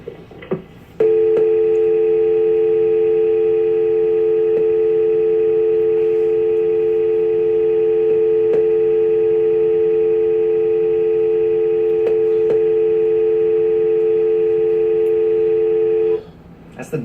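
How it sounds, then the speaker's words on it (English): A steady telephone dial tone hums loud and unbroken for about fifteen seconds, starting abruptly and cutting off near the end, with faint clicks over it. "As the dial tone plays out there, at the end"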